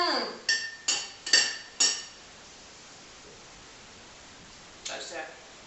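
A spoon clinks against dishes in a run of four or five bright, ringing taps early on, then a pause and one more faint clink; a voice is heard speaking.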